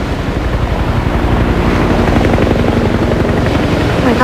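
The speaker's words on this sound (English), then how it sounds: "Oh my God, a helicopter." A helicopter passes overhead during a tornado-day scene, its loud, steady rotor thump beating continuously and close for the whole stretch with no voices over it.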